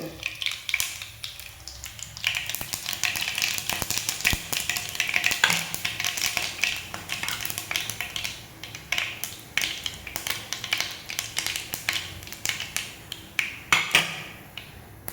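Mustard seeds splutter in hot butter with a little coconut oil, a busy stream of sharp pops and crackles near the pan, rising and falling in bursts, with no talk.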